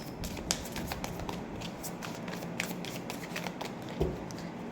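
Tarot cards being handled and drawn, soft shuffling and sliding with a few sharp slaps or flicks of cards, close and fairly quiet, with no talking.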